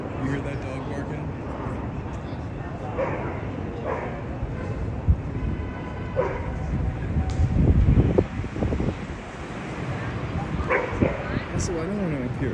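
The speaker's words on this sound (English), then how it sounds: "You hear that dog barking?" Dog barks and yips sound at a distance under outdoor wind noise on a Los Angeles street, while a person talks nearby.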